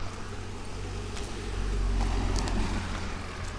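A car on a city street rolls past with a low engine rumble and tyre roar that swells toward the middle and eases off, broadband road noise throughout with no talking.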